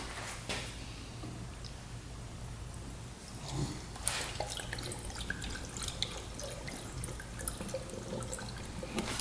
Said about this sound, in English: Go ahead and get some coolant in here, see if it leaks.